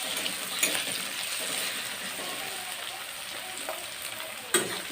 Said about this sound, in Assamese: বাকী মছলাবোৰ পিছতে দিম, মাংসখিনি আগে ভাজি লওঁ ভালকৈ।